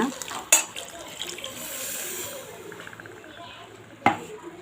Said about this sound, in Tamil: மிக்ஸி கழுவுன தண்ணி இருந்தால் அதையும் சேர்த்து நம்ம இப்போ ஊற்றிக்கலாங்க.